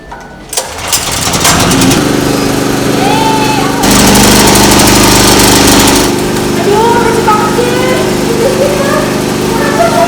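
Petrol generator (genset) engine starting up during a power outage, then running loud and steady with a constant droning hum, while a voice and occasional chirpy sounds come and go over it.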